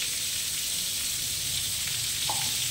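Steady, soft sizzling of poppy seeds and nigella seeds frying in oil, continuous and close, with no voices.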